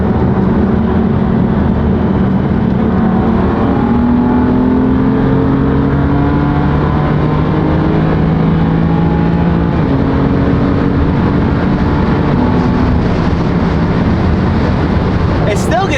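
A BMW M4 Competition with its stock S55 engine driving, a loud continuous engine drone with rising and falling tones as it revs through the gears, with a person talking over it.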